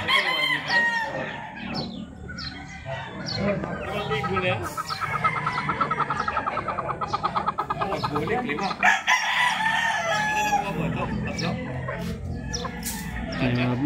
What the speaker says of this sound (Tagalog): Ayan yung mga hen mga boss.